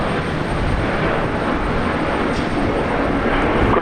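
An airplane roars steadily at Brisbane Airport in the morning, a loud, dense engine rumble that holds without a break.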